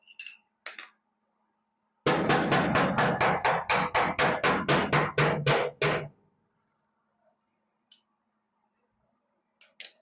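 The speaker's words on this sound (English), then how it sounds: "So now I'm going to try to hammer this." A hammer strikes hot, rusted sheet metal from a 1984 Chevrolet Scottsdale truck bed about a dozen times in a quick, steady, ringing series, loud and close, with a few isolated clinks before and after.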